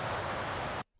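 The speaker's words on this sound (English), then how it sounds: "so it changes to far sound" Distant sea waves from a seaside ambience sound system, a steady broadband wash of surf that runs evenly, then cuts off abruptly near the end.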